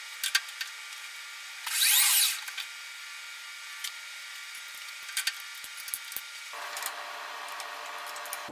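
A lathe taking a light skim cut with a brazed carbide tool bit, a steady mid-level cutting whine running throughout, with a brief louder burst of chatter near the start and a few small ticks and clicks.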